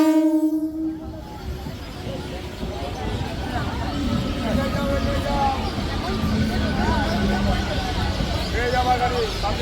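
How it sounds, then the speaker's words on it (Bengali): A Katwa to Bandel local train opens with a horn blast, then a steady roar and rumble of rolling carriages continues throughout, fairly loud and close, as if heard from inside the train. "6:21 train Katwa two Bandel local"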